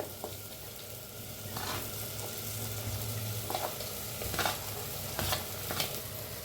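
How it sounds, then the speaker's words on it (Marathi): Roasted moth beans being stirred in hot oil inside a clay pot, a steady low sizzle with intermittent scraping strokes of the spoon against the pot's sides, close and moderately quiet. "आता हे भाजलेली मटकी मिक्स करूया"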